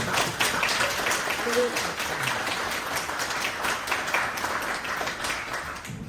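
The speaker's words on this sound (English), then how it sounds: "Let's give them a round of applause" A conference audience applauds a marketing panel in Toronto, with dense, steady clapping filling the whole stretch and voices mixed in.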